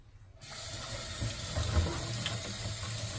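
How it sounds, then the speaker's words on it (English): Tap water starts running after a brief quiet moment and flows steadily as an air fryer net is rinsed under it, a constant close splashing stream with slight changes as the net moves. "Rinse it with warm or cold water."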